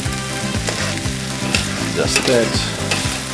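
A spoon stirs lobster paella with saffron in a hot pan, giving loud continuous sizzling and rhythmic scraping strokes about twice a second, up close, with a brief spoken remark over it.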